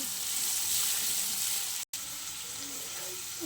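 Spices being stirred into katla fish curry in a pan, a steady bright sizzle and hiss at close range, broken by a brief dropout midway before the frying continues.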